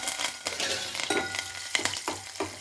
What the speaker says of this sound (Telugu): ముందుగా సిన్నులపాయ రబ్బలు, ఇవన్నీ తాలింపు గింజలు ఇవన్నీ వేసుకున్నామండి.